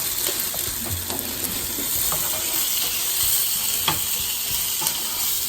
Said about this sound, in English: I'm going to actually add the garlic and chili and continue cooking it